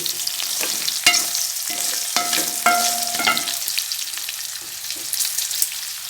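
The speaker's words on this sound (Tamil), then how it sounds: "அதே சிம்மில் வச்சு நம்ம கிளறிட்டுருக்கோம்" Okra sizzles and fries in a pan while a utensil stirs it, with scraping strokes and a few metallic taps against the pan.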